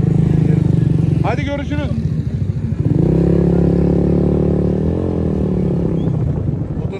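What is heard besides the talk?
motorcycle engine revving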